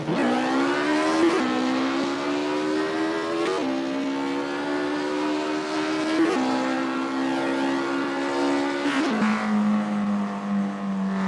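A car engine in a video game with a graphics mod revs steadily with a buzzy, sustained note that shifts pitch in several steps, running continuously and loud with no speech over it.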